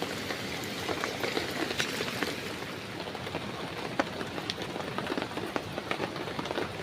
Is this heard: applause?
no